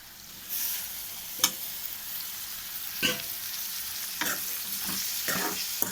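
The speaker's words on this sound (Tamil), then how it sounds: "தக்காளி நல்லா வதங்கட்டும்." Onions, dried seer fish and freshly added tomatoes sauté in a pan for a karuvadu thokku, giving a steady soft sizzle with a few sharper stirring scrapes and clinks, close and alone without talk.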